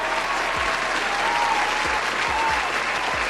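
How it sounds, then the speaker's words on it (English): Loud, dense crowd applause carries on steadily, with a few low thumps scattered through the clapping and a faint voice mixed in. "Give him a round of applause"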